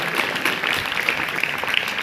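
Students applauded at a school award ceremony in Gorakhpur, a brief burst of steady clapping from a seated audience, even and moderately loud throughout.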